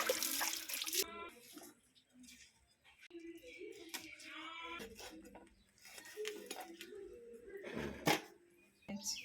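Pieces of country chicken are rinsed in turmeric water, with splashing, running water and wet handling in a basin, in intermittent bursts under a talking voice.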